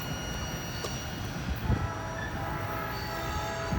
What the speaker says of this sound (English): Stuck around here long enough, the train actually came back.